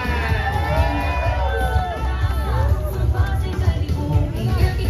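A crowd at a city civic parade in Pasig, with market vendors passing, cheers and whoops loudly, a dense babble of shouting voices near and continuous over street noise.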